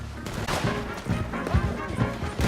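Gunfire erupts right after an order to open fire, a busy mix of shots and impacts over a rumbling action scene with voices mixed in.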